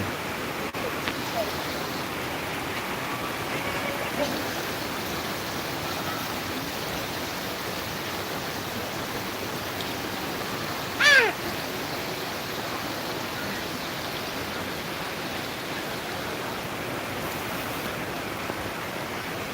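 Heavy rain pours down in Jatrabari as a dense, steady hiss that holds constant for the whole stretch, broken only by one brief sharp click partway through, with no talking.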